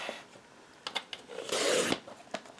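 Paper trimmer slicing a sheet of paper, a few short scraping strokes followed by one longer, louder rasping cut, close and without talking.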